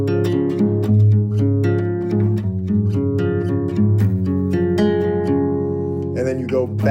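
A fingerpicked roll pattern on acoustic guitar rings close and steady with overlapping plucked notes in an even rolling rhythm, then stops at the end. No one speaks over it.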